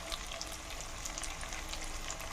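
Fish pieces fry in a pan, giving a dense, even, close sizzle with faint crackles and no talk.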